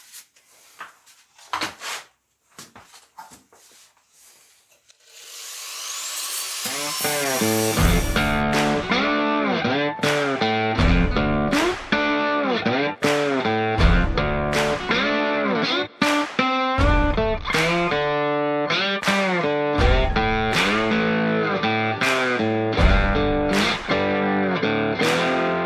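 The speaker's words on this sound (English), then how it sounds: "now I'll give it a try with my light grinder and make some cuts in there" Light grinder cutting into a rusty Lexus LS400 body panel during rust repair, a loud continuous whine with repeated rhythmic pulses as the disc bites, after a few seconds of scattered clanks.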